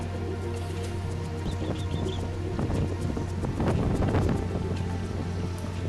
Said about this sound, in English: Quite windy up there.